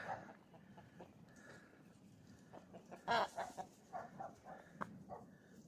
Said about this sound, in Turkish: Evet tavuklar.